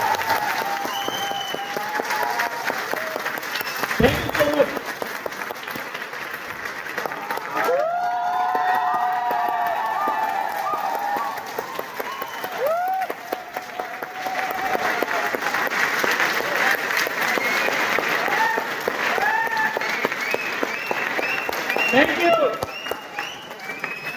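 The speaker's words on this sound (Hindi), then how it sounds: "तो एक बार अपने अपलाइन के लिए जोरदार तालियां बजा सकते हैं।" Loud, sustained applause with cheering from a seminar audience, clapped for their upline, runs steadily for the whole stretch while someone speaks over it and voices call out.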